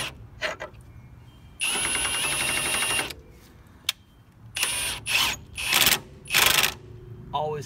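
A pneumatic impact gun drives a 19 mm nut on a car, rattling in a loud sustained burst and then several shorter hammering bursts in quick succession, close by.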